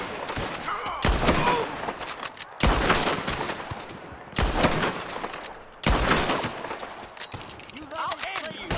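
Dense bursts of gunfire crack and rattle in a Red Dead Redemption 2 shootout, loud overlapping volleys in waves a second or two apart with short lulls, alongside speech.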